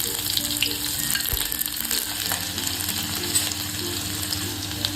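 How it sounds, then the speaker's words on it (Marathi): Mustard seeds, cumin and onion sizzle steadily in hot oil in a pan, a loud, close, continuous crackle with faint scraping. "तेल गरम झालेलं आहे मोहरी टाकते मोहरी तळतळली आता जिरा टाकते आणि कांदा टाकते"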